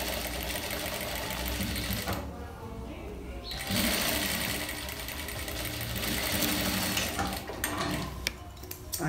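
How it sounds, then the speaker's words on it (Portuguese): A sewing machine runs a seam on a patchwork flower dish towel, a fast mechanical stitching whir that pauses briefly in the middle then resumes, close up with a few clicks near the end. "Aqui, ó, uma costura pé de máquina, da mesma maneira."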